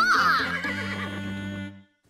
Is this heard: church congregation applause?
no